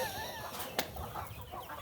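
Chickens on a farm cluck faintly and sporadically in the background, with a single brief sharp knock partway through.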